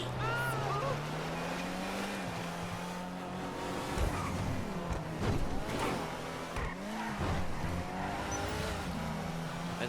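The Ardent car in GTA is driven hard through turns. A steady engine drone rises and falls as it shifts and revs, and tires squeal and skid in spots. A voice talks faintly underneath.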